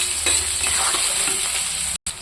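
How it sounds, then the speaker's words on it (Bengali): Sliced onion and bay leaf fry in oil in a pan for chicken gravy, a steady close sizzle with occasional stirring scrapes and no talking. "এটা আমি এখন কিছুক্ষণ ভাজবো।"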